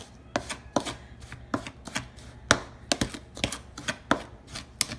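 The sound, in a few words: mixing sugar and cocoa in a bowl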